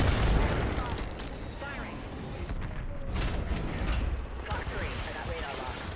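Gunfire in the video game Apex Legends, a dense continuous barrage of booming shots and explosions mixed with game sounds, loud and sustained, with a voice speaking over it.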